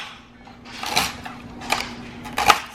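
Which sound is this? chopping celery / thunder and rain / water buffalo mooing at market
chopping celery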